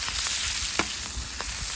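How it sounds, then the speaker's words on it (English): Chicken sizzles and fries in oil in a small paella pan, a steady close crackling hiss with occasional pops and stirring scrapes, no voices. "I'm coating my chicken in the oil so it goes a golden brown colour."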